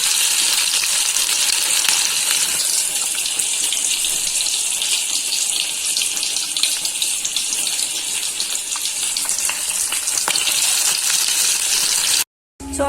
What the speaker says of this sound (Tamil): போட்டு இப்படியே எண்ணெயில போட்டு பொரிச்சிடலாம்